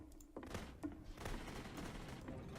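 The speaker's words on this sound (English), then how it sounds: "you can click to fire the gun" Rapid gunfire from a gun in the video game The Beginner's Guide, a burst of sharp muffled shots followed by a dull rumbling tail, fairly faint and slightly distant.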